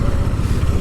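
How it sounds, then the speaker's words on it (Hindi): A KTM Duke 250 motorcycle engine runs steadily and smoothly, a loud, close, continuous low throb with no pauses. "बाइक अभी इतनी ज्यादा स्मूथ चल रही है ना"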